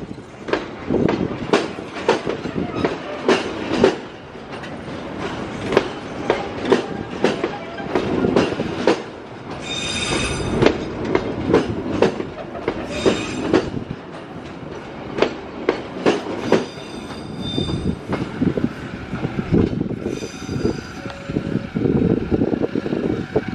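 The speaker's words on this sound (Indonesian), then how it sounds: "Kereta Parsel Selatan saat ini sudah meninggalkan stasiun Leles." A parcel freight train rolls past on the rails after leaving Leles station, Indonesia, with loud rhythmic clickety-clack from the wheels, occasional metallic squeals, and a constant rumble throughout.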